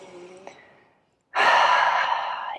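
A single deep, slow inhalation fills the quiet, loud and close, following a softer exhaled breath and a brief pause, with no talking.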